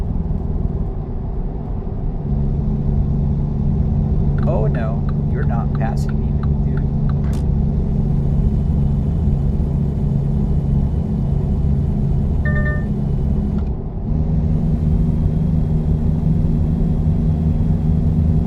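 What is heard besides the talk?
loaded truck engine climbing uphill in driving simulator game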